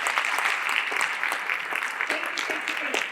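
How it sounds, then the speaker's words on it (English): Audience applause at a meeting for incoming students and caregivers, a dense, steady patter of many hands clapping for about three seconds with no speech on top. "if we could give just a round of applause"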